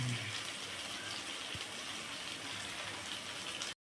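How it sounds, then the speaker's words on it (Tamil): Water poured steadily from a vessel into a pan of simmering chicken gravy during home cooking, a continuous close splashing gush with no voices over it. "தண்ணி ஊற்றிப்பா தேவைக்கேற்ப கொஞ்சம் கலந்து இப்படி ஊற்றிக்க வேண்டியதாப்பா."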